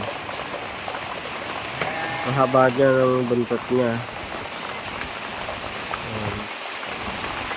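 Steady rain patters on the surface of a heated hotel pool in Tagaytay, a continuous soft hiss running throughout while people talk nearby in the middle of the clip.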